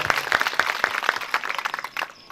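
Audience clapping at a stage gathering: a ragged, rhythmic patter of hand claps that thins out toward the end, moderately near.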